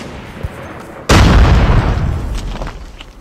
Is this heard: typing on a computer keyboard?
no